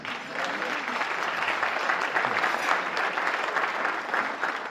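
An audience at a luncheon applauds steadily, a dense, even patter of many hands clapping at moderate volume that holds without a break from start to finish.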